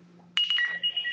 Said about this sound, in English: here in a second, we'll hear the phone ring again